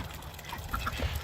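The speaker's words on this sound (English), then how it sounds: "and here comes the ducks." Ducks on a permaculture homestead quack a few times at a distance, brief calls rising over steady outdoor background noise.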